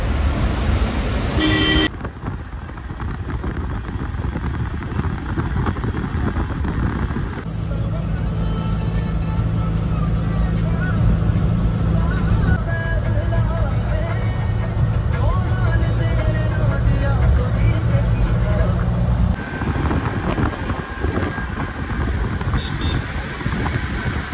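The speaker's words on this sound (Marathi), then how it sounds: "गाडी चालू होऊन 1 तास झाले." Steady engine rumble of a vehicle on a mountain road toward Sonprayag, Uttarakhand, with wind buffeting the microphone and a sustained droning tone through the middle stretch.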